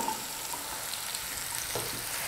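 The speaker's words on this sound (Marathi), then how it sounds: "तर यामध्ये कांदा घालूया लगेच मिरची घालायची आहे" Onion and chilli sizzling in hot oil over a high flame for restaurant-style chilli paneer, a steady close crackle and hiss with faint stirring and no talk.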